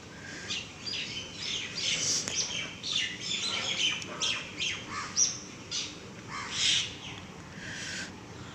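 Mynas singing and calling in a lively, overlapping chorus of chirps, whistles and squawks, fairly close and continuous.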